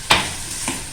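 Chicken sizzles while being fried in a pan, with two quick stirring scrapes over a steady close hiss.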